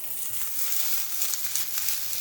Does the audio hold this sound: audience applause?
no